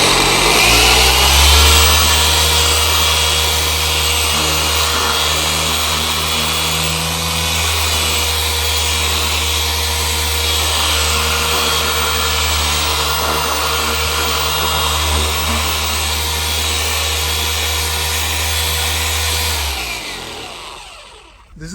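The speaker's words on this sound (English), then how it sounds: "I'm going to use the buffer, and this is the ultimate." A polishing buffer runs on a foggy car headlight during restoration, a loud, steady motor drone held for about twenty seconds before winding down at the end.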